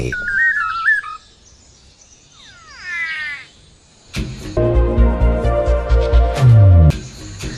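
Thin whistled notes and rising chirps from a manakin, then a louder, dense burst of buzzy low calls mixed with clicks and snaps continuing to the end.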